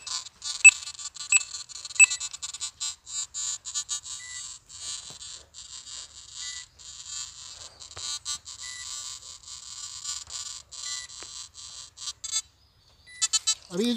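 A metal detector pinpointer emits rapid, repeating high electronic beeps in uneven bursts, fairly close and moderately loud, continuing for several seconds before stopping, with brief sounds at the end.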